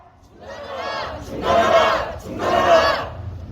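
Protesters opposing the idolization of Park Chung-hee chant slogans in unison outdoors, three loud swelling shouts with short pauses between them, the last two strongest.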